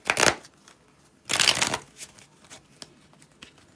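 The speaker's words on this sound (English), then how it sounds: "We're just going to pull some additional tarot cards to kind of clarify today's message." Tarot cards being shuffled by hand in two loud riffling bursts, followed by softer scattered taps and card slides, close up with no talk.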